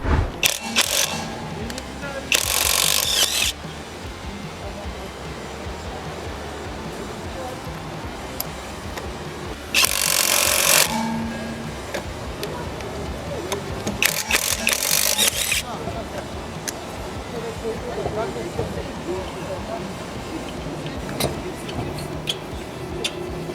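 A power drill whirs loudly in several short bursts, a few seconds each, tightening nuts and bolts, separated by quieter stretches of handling and background noise.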